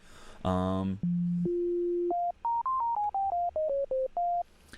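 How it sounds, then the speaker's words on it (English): A synthesizer sine wave plays a series of single notes, each held briefly, stepping up and down in pitch, clean and steady with short gaps between. "If I press a single note, we get a single frequency"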